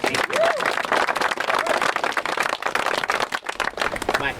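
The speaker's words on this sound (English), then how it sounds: "Let's give them a round of applause." A crowd at a community event applauds the club's supporters, dense clapping sustained throughout at close range.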